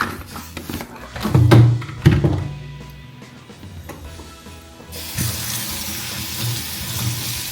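Running cold tap water splashes in a sink as salmon is rinsed, louder in bursts early on, then a steady hissing flow continues with small clatters.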